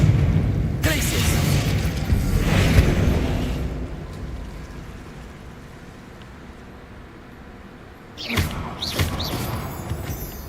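Spell impacts in the Hogwarts Legacy video game, a run of heavy booming blasts and thuds that fades into a low rumble, then a fresh burst of sharp crackling hits, with a player shouting spell names over them.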